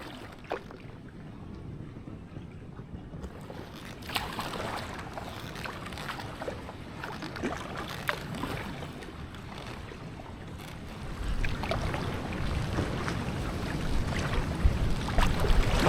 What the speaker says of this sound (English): I'm actually getting a little bit fed up of paddling against the wind and the current.